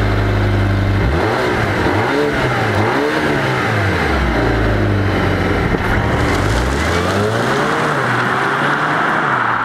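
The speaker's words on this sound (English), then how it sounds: "have a quick listen to that exhaust." A 2020 Volvo S60 T8 Polestar Engineered, a supercharged and turbocharged sedan, revs loudly and close by, its exhaust note rising and falling in several sweeping surges with no talking.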